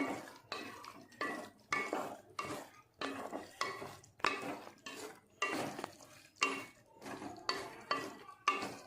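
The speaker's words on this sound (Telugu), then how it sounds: "బాగా ఇలా కలుపుకొని" Telugu-style chicken fry with coriander is stirred and mixed in a pan, a spoon scraping and clinking against the metal in about a dozen regular strokes, close and fairly loud with short pauses between them.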